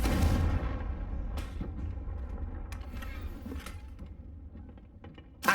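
Confringo fire spell in Hogwarts Legacy, a booming blast at the start that fades into a rumbling tail, followed by a few sharper cracks and a last burst at the end, no voices.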